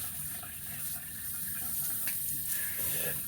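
Tap water running steadily into a sink while a face is splashed and wetted before shaving, a close, soft rushing hiss with faint splashes and no talk.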